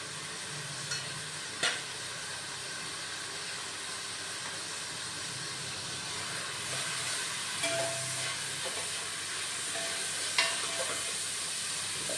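Onion and garlic fry in plenty of oil in a pan, a steady loud sizzle and hiss throughout with a few brief clinks, no voices.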